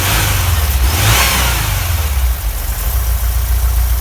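A car engine revs up while accelerating, loud and close, with a steady low rumble that rises briefly and then settles into a continuous drone over the full stretch.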